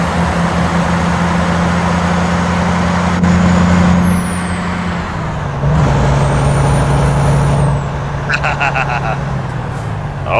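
An old truck in American Truck Simulator drones with a steady diesel engine and shifts gears, with sharp air-brake releases and a high whine, loud and close over about ten seconds.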